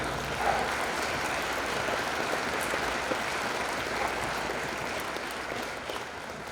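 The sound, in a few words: audience applause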